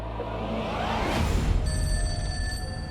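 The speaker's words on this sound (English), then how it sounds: "I received a call." A telephone rings once, a sustained bright electronic ringing tone that starts partway through over a low rumbling bed, moderately loud and alone without talk.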